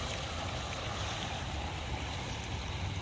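Lower waterfall of a koi pond, fed by a circulating pump from a 3,000-gallon cistern, giving a steady broadband rush of falling water that sounds close and constant throughout.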